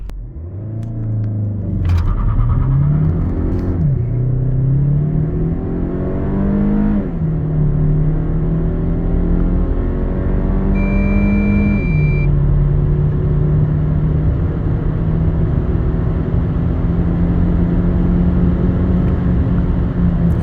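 An MG HS 1.5 T-GDI with dual-clutch gearbox accelerates hard from a standstill with wheelspin, its loud engine drone climbing steadily through several gear changes, each marked by a brief dip before the revs rise again.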